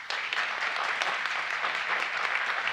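Audience of a political pints-and-politics event in Cedar Rapids clapping as a show-of-hands poll, moderate scattered applause at some distance, fairly faint and steady, with no talking over it.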